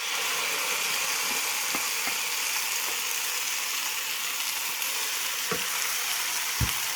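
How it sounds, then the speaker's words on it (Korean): Pork belly stir-frying over medium heat in a pan lightly coated with grapeseed oil, a steady bright sizzle throughout with a few scraping knocks of the utensil against the pan. "불을 중불로 놓으신 다음에 삼겹살부터 볶아 보겠습니다."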